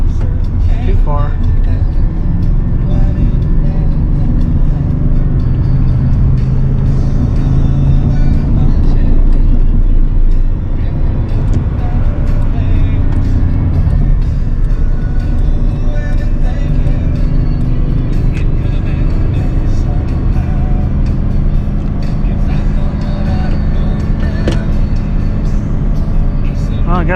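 A 24-year-old 8.1-litre gas V8 truck engine drones loud and close while towing a heavy 18,000-pound trailer, its low rumble steady with a slight dip as the throttle eases, and a voice talks over it.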